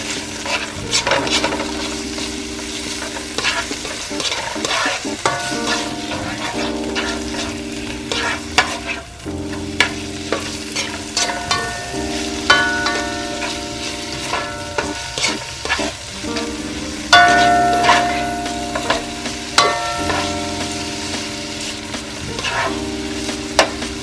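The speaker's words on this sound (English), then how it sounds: "Continue to saute and mid-heat." Vegetables sauté in a pan over medium heat for Jamaican-style steamed fish and okra: a constant close sizzle with frequent scraping stirring strokes, and a steady tonal background underneath.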